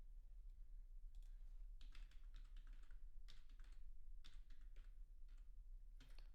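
Fingers type on a computer keyboard during a software installation, producing quiet, irregular bursts of clicking keystrokes over faint background hum.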